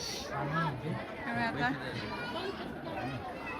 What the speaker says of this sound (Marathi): हे बघा खूप गर्दी आहे आणि दर्शन होणं जरा कठीणच आहे.